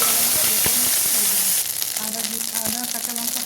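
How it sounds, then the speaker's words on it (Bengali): Chopped ginger and green chilies sizzle in hot oil for a samosa potato filling, a steady close frying hiss with a few stirring scrapes and brief spoon knocks. "আদা কাঁচা লঙ্কা হালকা ভাজা হয়ে গেছে।"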